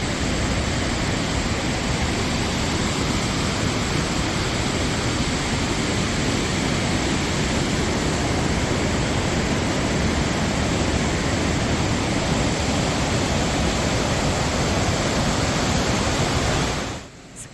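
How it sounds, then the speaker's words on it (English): The lower falls of Spokane Falls, a two-tiered urban waterfall in Spokane, Washington, produce a constant, loud, broadband roar of rushing water heard from a nearby overlook, unbroken until it cuts off at the end. "Spokane Falls is not a tall waterfall, but rather it's separated into two tiers."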